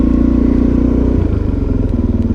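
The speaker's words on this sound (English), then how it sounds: "Let's see if I can remember how to ride this DRZ." A Suzuki DRZ motorcycle runs close by as it is ridden, its engine giving a continuous, loud, throbbing drone with a slight shift in pitch midway.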